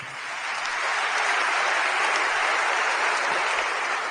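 A church congregation claps in sustained, dense applause, loud and even throughout, with no voices standing out above it.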